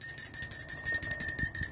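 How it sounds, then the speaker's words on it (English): An old hand bell rings on Christmas Eve at six o'clock, shaken in rapid, even strokes that jangle continuously for nearly two seconds, bright and fairly close, with no speech over it. "I've got a bell."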